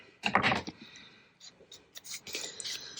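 Paper being trimmed for a 12x12 pocket page, with scraping and cutting strokes, a louder cluster early on, then quieter intermittent rustles close by.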